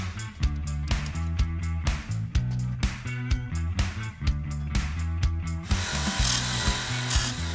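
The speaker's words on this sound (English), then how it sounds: "the first thing I need to do is cut a slot out for the wiring harness to connect to the back of our gauges" A power tool grinds and cuts a slot in a dash panel in rapid, rhythmic bursts with a low motor hum underneath, then shifts to a steadier, harsher whirring near the end.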